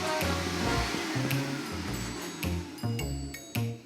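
A remote-controlled vacuum cleaner runs with a steady, close, continuous whine, its motor pitch wavering slightly as it moves, with repeated short clatters and bumps over the hum.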